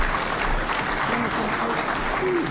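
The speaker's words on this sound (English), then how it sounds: "Let's give our chairman a bigger clap." Meeting attendees clap for the chairman at a Mt Kenya Foundation gathering, a steady dense patter of applause with some murmured voices faintly underneath.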